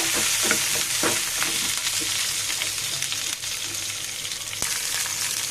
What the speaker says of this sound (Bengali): এই পর্যায়ে রসুনগুলোকে আমি হালকা তেলের মধ্যে ভেজে নিব।